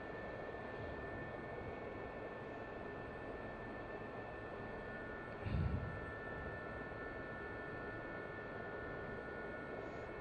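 Gazelle helicopter in a VR flight sim, a steady broadband engine and rotor drone holding evenly throughout, with a brief louder thump near the middle.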